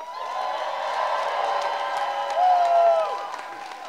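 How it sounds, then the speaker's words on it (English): Live audience at a youth composers and choreographers festival concert cheering, screaming and clapping in a sustained loud wave, with a brief shrill whoop rising above the crowd near the end. "Let's just have one more big scream for them."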